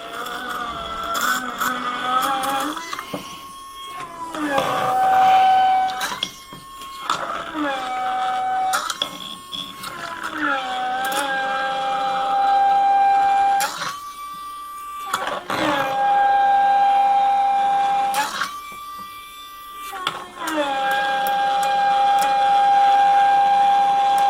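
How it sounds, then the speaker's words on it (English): Small electric slot car motor whining alone at close range, its pitch rising and falling repeatedly as speed is varied, with brief pauses and surges between runs. "play around with different speeds, bring it in and out just to get it to move any crap that could be inside the motor"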